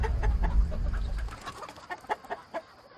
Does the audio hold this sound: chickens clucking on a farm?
yes